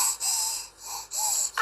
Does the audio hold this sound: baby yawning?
yes